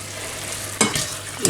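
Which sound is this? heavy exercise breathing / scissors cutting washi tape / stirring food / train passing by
stirring food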